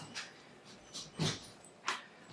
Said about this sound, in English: The dog's in the background trying to get out the door